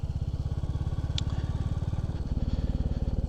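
Royal Enfield Classic 350 single-cylinder motorcycle engine thumping steadily while riding, a close, loud rhythmic pulse that shifts to a slightly lower, heavier beat partway through, with a brief clack near the start.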